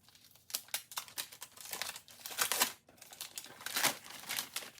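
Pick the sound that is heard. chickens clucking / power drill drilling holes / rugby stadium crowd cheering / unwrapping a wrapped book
unwrapping a wrapped book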